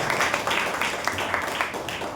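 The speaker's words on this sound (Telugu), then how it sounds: "మీకోసం చప్పట్లు కొట్టండి" An audience at a church partners' meeting claps together, a steady, fairly loud patter of many hands with a roughly even rhythm.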